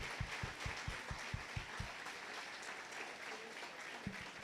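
A church congregation applauds at a Sunday service, starting with rhythmic, evenly spaced claps that blend into a steady, moderately distant wash of clapping lasting several seconds.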